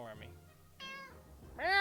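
A cat in the survival game 60 Seconds! Reatomized meows several times, short rising tonal cries in two or three bursts, with the loudest one at the end, heard alone without talk.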